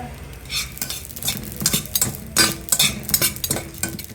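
Cumin is stirred while dry-roasting in a pan, giving close, rhythmic scraping strokes over a faint crackle of toasting seeds.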